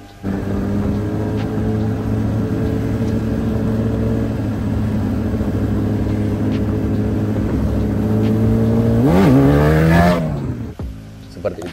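A Kawasaki ZX-10R superbike, 30th Anniversary edition, rides with a loud, steady engine drone and a sharp rev sweeping up near the end before cutting off; a voice speaks briefly.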